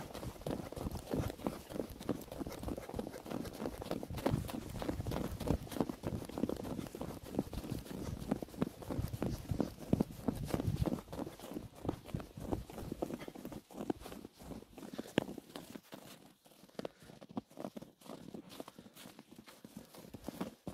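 Horse hooves clip-clopping at a steady walking rhythm along a path down toward a village, close and distinct for a long stretch before thinning out near the end.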